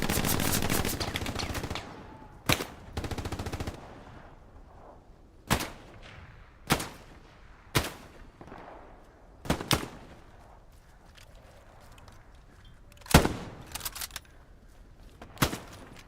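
Gunfire in a WW2 shooter video game: an opening rattling burst followed by scattered single sharp shots spaced a second or two apart, loud against a quieter background.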